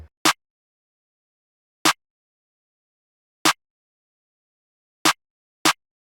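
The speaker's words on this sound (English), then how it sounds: "I added this clap snare." Clap snare sample from a dark FL Studio beat, five sharp broadband hits spaced irregularly across silence, each short and punchy with a quick decay, heard alone.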